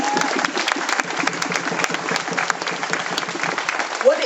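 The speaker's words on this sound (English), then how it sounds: "So I think just a big applause and drum roll for that phenomenal fact." Applause from a large audience at an event on an equality bill and support for women and girls, a dense, steady clapping wash that holds evenly for several seconds.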